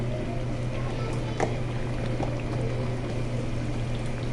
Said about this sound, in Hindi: यहाँ पे मैं इसमें ऐड कर रही हूँ 2 कप यखनी